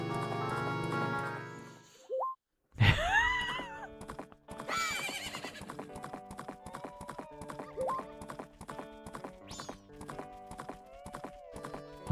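In Zelda: Majora's Mask, a horse whinnies and snorts, then gallops with steady rhythmic hoofbeat clip-clops alongside game sound effects and chimes, fairly loud and continuous.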